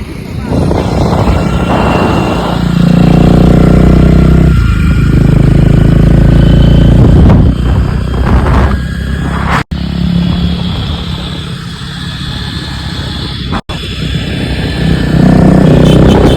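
A scooter is ridden fast on a road in Nava Raipur, its engine drone and wind rumble loud and continuous throughout, with voices talking over it at times.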